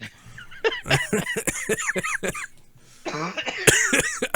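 Several harsh, hacking coughs in quick bursts, close and loud, with a pause before another fit of coughing.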